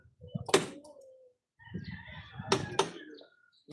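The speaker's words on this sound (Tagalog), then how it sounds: "Nilapag lang yung manok niya doon." Rooster crowing and clucking nearby at a beach setting, with two loud bursts separated by a pause, mixed with faint background murmur.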